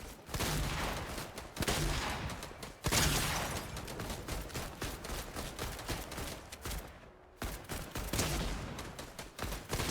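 Rapid gunfire crackles almost nonstop in Fortnite as several players shoot at once, dense volleys and bursts running close and loud with only a brief lull near the end.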